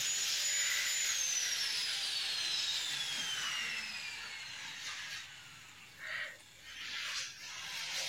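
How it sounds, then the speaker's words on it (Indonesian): A pipe being cut with a power tool during a bathroom renovation in a subsidized house, heard as a steady high-pitched whine that falls gradually in pitch, with a few short bursts of grinding near the end. "Settingan pipa di kamar mandi sedang dipotong."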